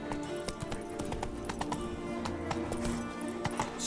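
Horse hooves clip-clop steadily in The Witcher 3 video game, a quick, close rhythm of hoof strikes over a busy ambient background, with a brief whinny-like sound.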